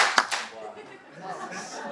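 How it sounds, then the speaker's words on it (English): A lecture audience at a UC Berkeley talk claps together on a countdown, a sharp synchronized burst followed by a second clap, then murmuring voices. "Now we're going to clap in 3,"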